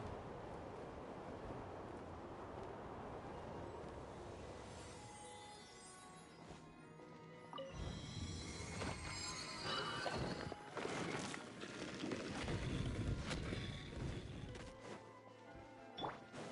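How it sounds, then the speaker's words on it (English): Riding a wind current in the video game Genshin Impact, a rushing whoosh of wind that swells midway, layered with game crashes and impacts, no talk. "Let's ride this wind current, shall we?"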